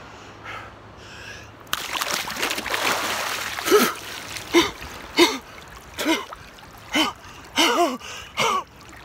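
Splashing and thrashing in cold sea water during a winter polar plunge in New Zealand, a burst of churning water followed by repeated sharp gasps and shouts from the swimmer.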